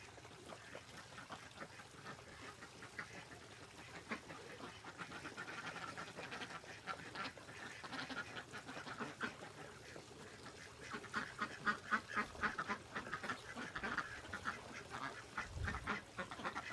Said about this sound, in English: there's our foster ducks. 2 Pekings, and I believe they're called Indian runners